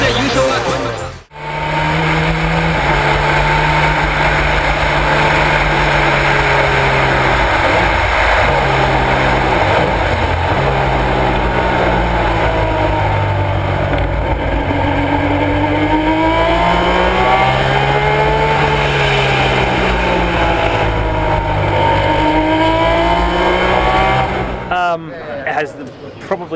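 A 1965 Honda RA272 Formula One car engine revs loudly and close, a high-pitched, harmonically rich multi-cylinder wail that rises and falls steadily across the whole stretch, cutting off near the end.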